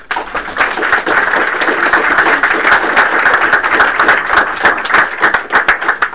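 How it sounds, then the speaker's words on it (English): Sustained applause from an audience at a game studio build review event, dense clapping filling the whole stretch at steady loudness with no speech over it. "give yourself a round of applause."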